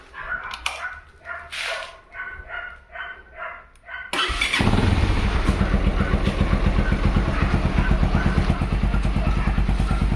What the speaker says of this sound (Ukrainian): Як він зараз заводиться?